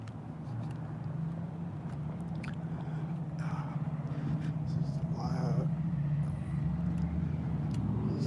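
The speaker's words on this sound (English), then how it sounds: "Loud car and a loud motorcycle driving out at the alley." A loud car and motorcycle pull out of an alley, a steady low engine rumble that swells slightly toward the end, with occasional faint background noises.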